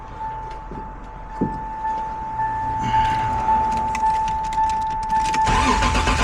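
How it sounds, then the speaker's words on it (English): A Toyota Supra MKIV engine cranks after fuel pump hat work, a loud, steady mechanical churn under a constant whine, with a brief rattle partway through and a louder surge near the end. "So I'm going to hook up the battery right quick, and we're going to see if it cranks."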